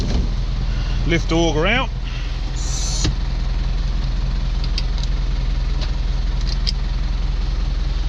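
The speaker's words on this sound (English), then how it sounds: "I'll rev down a bit." A farm tractor's diesel engine runs at a steady low idle with the PTO disengaged, throbbing close and even, while someone talks briefly over it near the start.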